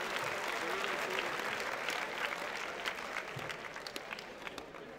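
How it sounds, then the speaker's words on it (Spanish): Loud, continuous crowd applause at a freestyle rap battle, dense clapping at a steady level that thins slightly toward the close, with a few cheers mixed in. "Aplausos para estos dos cabrones."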